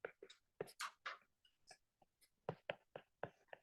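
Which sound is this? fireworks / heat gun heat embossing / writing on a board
writing on a board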